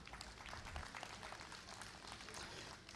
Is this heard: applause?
yes